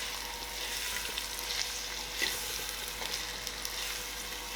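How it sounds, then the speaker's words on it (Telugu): Sliced onions frying in oil with curry leaves, a dense hissing sizzle close by with one brief louder crackle and clatter, no talking. "ముందుగా కట్ చేసి పెట్టుకున్నటువంటి ఉల్లిపాయ ముక్కలు వేస్తున్నాను"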